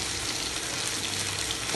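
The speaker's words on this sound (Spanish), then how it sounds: "Ya vemos que está hirviendo, echamos el arroz." Rice goes into a pot of boiling water while cooking rice with carrot, giving a short, loud, steady hiss of bubbling and sizzling liquid heard up close.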